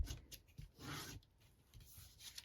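A tool burnishes score lines on a paper treat package, giving short, close, dry rubbing strokes with one longer scrape in the middle, faint and alone.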